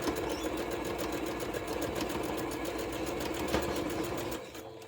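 A sewing machine runs steadily, stitching a quarter-inch seam across a quilt block for a ribbon friendship star, its motor hum loud and continuous before slowing to a stop at the end.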